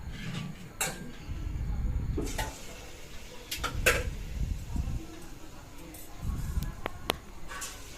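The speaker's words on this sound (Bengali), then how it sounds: "এখন আমি বড়াগুলো দিয়ে দেবো এতে।" Palm fruit fritters slide one by one into hot oil in a wok, giving soft bubbling and sizzling with a few light clinks of utensils, fairly quiet and close.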